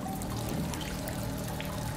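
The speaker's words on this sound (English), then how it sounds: "what's up with all this water leaking?" Water leaking inside a facility in SOMA, a steady pouring trickle with a low background hum, continuous and moderately close.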